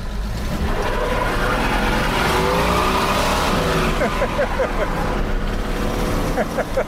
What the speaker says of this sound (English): Let's see if she'll spin the tires.